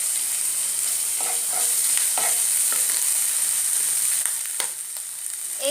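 Ginger garlic paste and chili powder fry in a pan for a village-style egg potoler dorma, a steady bright sizzle with scattered scraping stirs and soft clicks, close and without talk.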